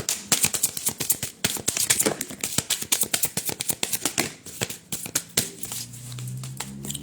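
Intuitive oracle cards being shuffled by hand, a brisk series of crisp flicking and slapping card sounds in quick irregular bursts, close and clear, easing off near the end with a low hum.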